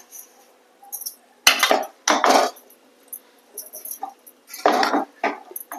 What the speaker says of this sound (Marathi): गुळ टाकूया आणि मिश्रण करून घेऊया